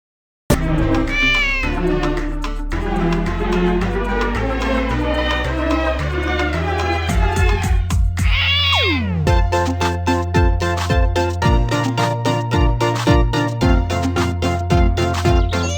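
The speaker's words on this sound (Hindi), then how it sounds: "बिल्ली आई खिड़की से, पी गई सारा दूध।" A cartoon cat meows, apparently as a brief sound effect within a bouncy Hindi children's nursery rhyme, and the music plays continuously around it.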